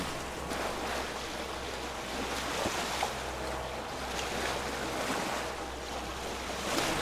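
Open sea waves washing around a sailing boat, a steady broad rush of water and wind close to the hull, with a low rumble underneath and no voices.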